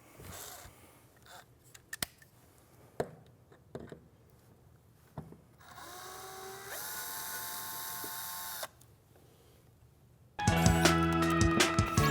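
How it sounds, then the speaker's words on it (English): A power driver backs the upholstery screws out of an Allegro 2 Reformer, working slowly through eight screws. Scattered clicks and taps lead into a sustained whining spin, then a sudden louder, harsher burst near the end. "I'm going to take it pretty slow and back out all 8 of these screws now"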